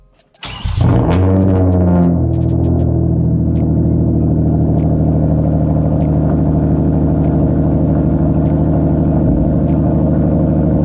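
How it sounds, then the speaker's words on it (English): A car engine starts up with a loud crank-and-catch burst, revs briefly and then settles into a steady, close idle that runs on without talk. "I'm going to start up the car, turn on the lights"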